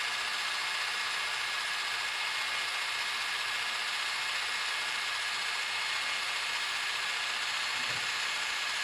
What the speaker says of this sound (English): it's full throttle, simulating that the engine has a very heavy load.